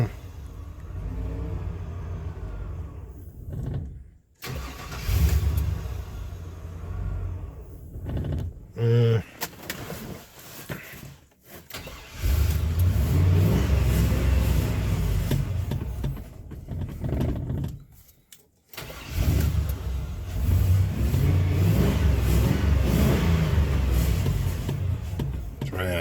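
A barn-find Chevy 3500 pickup with an 8.1-litre V8 cranks and roars into life, revving loudly in long sustained bursts with brief drops between, close to the microphone, and people talk in the background.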